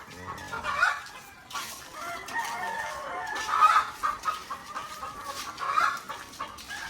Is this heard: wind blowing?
no